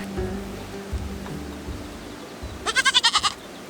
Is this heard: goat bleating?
yes